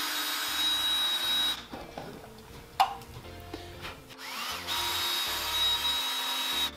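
A power drill bores into a kitchen table, running in loud steady whines at the start and end with a quieter gap and a sharp knock in the middle.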